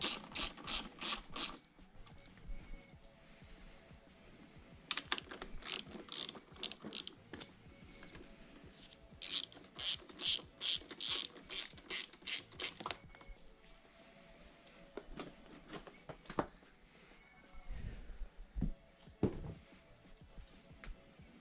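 A ratchet wrench removes the seat bolts on a Suzuki DR350 motorcycle, producing loud, close, rapid clicking bursts again and again, with short pauses and a few soft knocks between runs.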